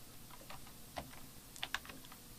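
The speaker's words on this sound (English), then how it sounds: "hit the return key a few times on my keyboard to give myself some more space" Typing on a computer keyboard, including a few presses of the return key: faint, close, irregular clicks over a low background hiss, with no talk.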